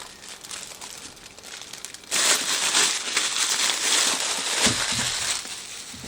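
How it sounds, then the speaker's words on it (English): Loud, continuous crinkling and rustling of a plastic bag being handled up close, growing busier and louder partway through. "I'm sorry about the noisy plastic"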